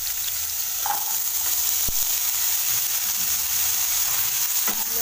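Onion and potato fry together in a pan, an even, hissing sizzle that runs without pause, with a faint tap or two from a utensil.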